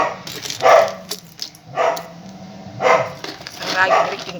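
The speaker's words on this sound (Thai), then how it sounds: "ข้างล่างก็เห่าจังเลย" Dog barking from downstairs in a home, several separate bursts of barks at moderate distance, with a voice talking at times.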